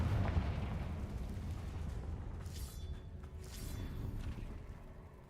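Confringo blasting spell explosions in Hogwarts Legacy, a faint rolling low rumble with a couple of soft burst accents, distant and muffled.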